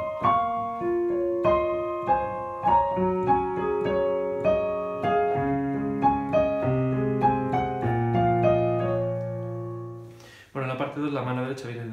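Solo piano playing the second part of a piece, a slow melody of clear single notes over gently building low chords, ending in a brief burst of busier sound.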